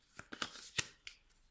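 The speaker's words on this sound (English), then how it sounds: "So what we do is we shuffle these cards." Playing cards for a board game being shuffled, a handful of soft, quick riffling snaps and rustles, close and quiet, with no talking.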